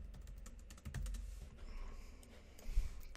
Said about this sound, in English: I am just pressing tab as I'm typing and it auto completes the rest